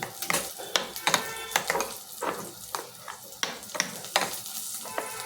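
A spoon stirs a poppy seed and mustard paste mixture in a hot pan, giving repeated scraping strokes and light taps in an uneven rhythm over a soft sizzle.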